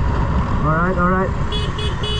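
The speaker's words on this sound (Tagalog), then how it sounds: "Hindi siya takot sa busina ko." Small horn on a single motorcycle in traffic, sounded in two short toots followed by a few thinner, higher beeps, over road and engine noise.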